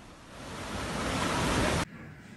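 Massive typhoon-driven waves surge and flood the streets of a beachside coastal village during Typhoon Mangkhut in Hong Kong, a loud, continuous broadband roar of rushing water and surf that builds, then cuts off abruptly near the end.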